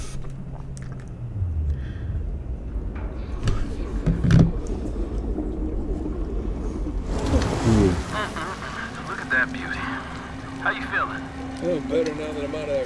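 Sea waves wash and surge in the video game Uncharted 4, with a soft watery rumble that swells into broader splashing and hissing surf partway through, beneath a low steady tone.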